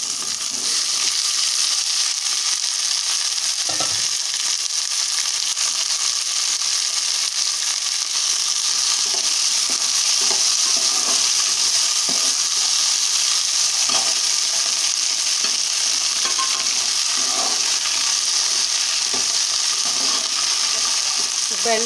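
Cut okra pieces frying in a pan for a tomato curry, producing a continuous, even sizzle with faint stirring clicks scattered through, close and steady with no talking.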